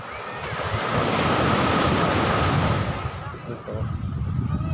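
Sea waves surging at a beach in Sabang, Vinzons, Camarines Norte, a loud steady wash of surf with wind buffeting the microphone, easing slightly toward the end.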